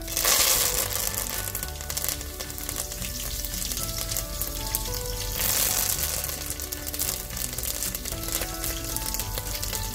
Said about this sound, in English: Fresh curry leaves splutter a lot.